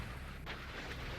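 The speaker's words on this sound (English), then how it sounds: "Missile away." Simulated missile launch in the naval combat game Sea Power, set in a 1991 scenario: a single sharp whooshing burst over a steady, low battle rumble.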